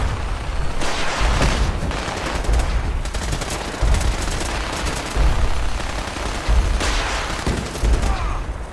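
Rapid gunfire in the video game Fallout 4 rattles in dense bursts and volleys, with heavy low-end impacts and brief pauses between strings of shots, a faint voice occasionally audible beneath.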